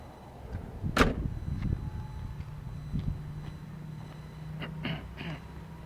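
A car door on a 1941 Packard 160 Club Coupe opens with a sharp click near the start, then a few softer metallic clunks and latch sounds in a quiet setting, with a steady low hum underneath.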